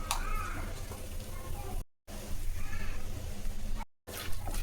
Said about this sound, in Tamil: இப்போது எண்ணெய் காஞ்சிடுச்சு, கடுகு கொஞ்சம் போட்டுக்கலாம். வெந்தயம் கொஞ்சம் போட்டுக்கலாம்.